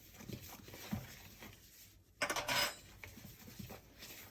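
Dough ingredients with curry powder are mixed into baking flour in a bowl for flat egg bread, with faint scraping and soft clinks of a utensil against the bowl, a few louder rattling knocks midway, and no talking.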